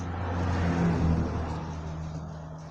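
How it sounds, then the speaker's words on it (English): Road traffic noise with a car passing by, a broad steady engine rumble and tyre hiss that swells and slowly fades, heard from a moderate distance with no talk over it. "Sorry about the road noise,"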